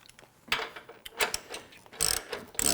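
A wrench ratchets on an 18mm bolt while a stubby steel front bumper is fitted to a Jeep Wrangler JL Unlimited: quiet, close clicking pawl strokes in a few short bursts.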